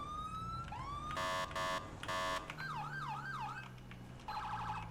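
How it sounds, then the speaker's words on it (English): A loud electronic police siren from a Crown Victoria in modded GTA V (LSPDFR) cycles through wailing and yelping patterns, with brief stuttering bursts between the sweeps, heard up close with no talking. "I love this siren, wow."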